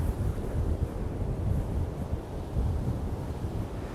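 Ocean waves breaking in an offshore wind, a continuous low roar of surf mixed with wind buffeting the microphone, steady and fairly loud with no distinct individual crashes.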